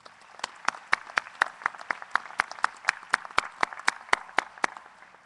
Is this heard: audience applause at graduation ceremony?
yes